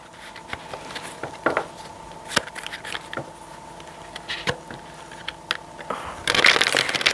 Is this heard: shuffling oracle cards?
yes